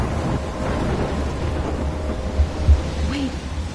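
Thunderstorm in the video game Life is Strange, a steady wash of rain and low rumbling thunder with a couple of heavier rolls near the end, continuous and fairly loud.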